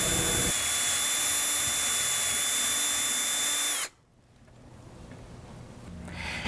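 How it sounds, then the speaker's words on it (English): A power drill with a skinny bit whines steadily and loudly through a wooden lamp leg for nearly four seconds, then cuts off abruptly, leaving quiet room noise. "we'll use a skinnier drill bit to complete the hole all the way through the leg."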